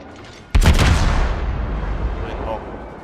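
Naval gunfire from the Moskva cruiser in World of Warships, a single sudden booming salvo after a quiet start, followed by a long rolling rumble that slowly fades, with a voice speaking beneath.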